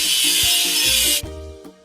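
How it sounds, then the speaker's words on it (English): Rust being scrubbed off a machine in a kids' cartoon: a loud, steady abrasive scraping over a simple tonal backing that cuts off abruptly after about a second, leaving the music alone. "Let's get rid of the machine's rust."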